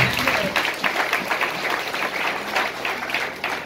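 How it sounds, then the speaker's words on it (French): A church congregation breaks into applause, thick overlapping clapping that stays loud and continuous with voices mixed in underneath. "On va applaudir la gloire de Dieu."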